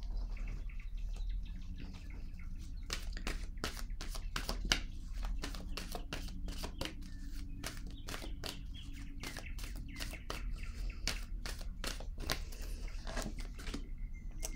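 Tarot cards shuffled by hand before another card is drawn, heard as a dense stream of quick, close card flicks and snaps over a soft background with faint chirps.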